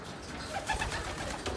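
Racing pigeons at a loft give a brief, soft coo or two over a steady background hiss.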